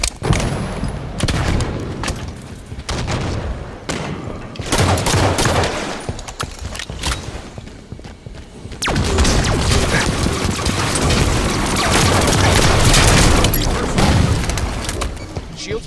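Heavy Halo 5 Arena Slayer combat: repeated bursts of automatic gunfire and booming grenade explosions, loud and close, with brief lulls between volleys and game voice callouts mixed in.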